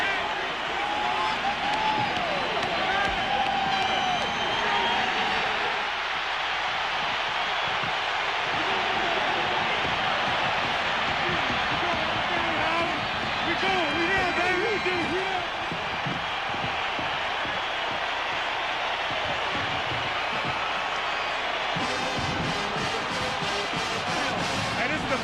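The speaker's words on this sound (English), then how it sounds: "Listen to this crowd" A huge record crowd roars through a 1997 Michigan vs. Ohio State college football game in the closing seconds, a loud sustained wash of cheering and shouting that swells in places, with a broadcaster talking over it.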